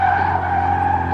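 A standard road car skids while drifting through a corner, its tires giving a loud sustained squeal with engine tone underneath, close and brief.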